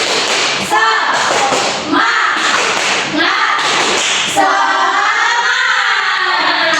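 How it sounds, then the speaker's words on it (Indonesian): Rhythmic 'tepuk semangat' spirit clapping in a primary-school maths lesson: a few groups of sharp claps and thumps in a chant-like pattern, fairly close, with voices chanting or talking along. "Tepuk semangat."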